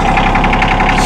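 A 2016 John Deere 2025R compact tractor with a 24.2 hp engine runs loud and close, a dense, even rumble with a rapid pulsing knock and no pauses or voices.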